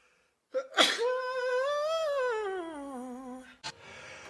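A celebrity lets out one loud, close sneeze: a sharp gasping intake, then a long drawn-out wailing, vocal sneeze that slides down in pitch, followed by a short breathy sound.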